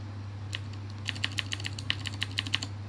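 Keys clack on a computer keyboard plugged into a Likebook Mimas e-reader tablet, a quick irregular run of crisp taps over a steady low hum, with no talking.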